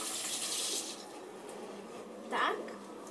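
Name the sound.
washing hands under running tap water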